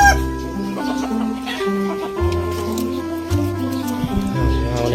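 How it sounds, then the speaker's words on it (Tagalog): Backyard chickens cluck repeatedly at close range, soft irregular calls layered over a person talking. "Mga connecting. Mga manok."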